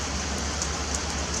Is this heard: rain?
yes